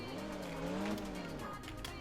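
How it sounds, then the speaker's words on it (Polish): A car being maneuvered into a parking spot in the MTA Paradise roleplay video game: a steady, close engine hum that rises and falls in pitch, with a faint tire-squeal tone, continuous for about two seconds. "Zaparkuję sobie tutaj samochód."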